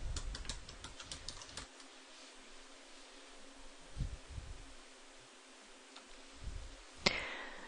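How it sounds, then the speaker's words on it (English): Quick keystrokes tap on a computer keyboard while a parameter is entered, a close burst of clicks at first, then sparse taps and a single sharper click near the end over quiet hiss. "in this box we type the parameter"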